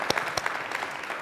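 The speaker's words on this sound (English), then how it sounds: "I just wanted to give them a round of applause for all those announcements." A round of applause from an audience at a university teaching and learning celebration, dense and steady clapping with a few sharper claps standing out, fairly faint and with no voices.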